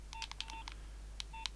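Short electronic keypad beeps from an older Nokia mobile phone as the time is set, several quick tones in two clusters, faint and close against a low steady hum.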